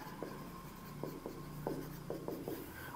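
A pen writes by hand on paper while working a cash book accounting entry, giving a series of short scratchy strokes in an uneven rhythm, close and fairly quiet, with no talking.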